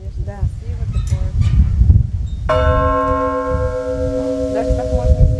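Church bells ring outdoors at the Buranovo church in Udmurtia, a clear, sustained bell tone striking partway through and ringing on over wind noise and murmuring voices.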